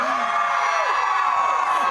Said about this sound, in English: If you do, scream.